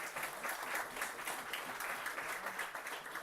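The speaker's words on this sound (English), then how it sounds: "I request the audience to bring a huge round of applause." Sustained applause from an audience, many hands clapping steadily at moderate volume for a few seconds.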